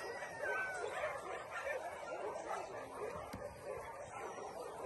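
Several dogs at an animal shelter barking, yipping and whimpering together in a continuous noisy chorus, close by and fairly loud, with overlapping cries throughout.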